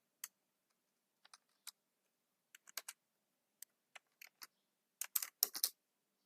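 Sparse keystrokes on a computer keyboard as code is typed, isolated clicks spread out at first and then coming in a quicker cluster, close and quiet with no voices.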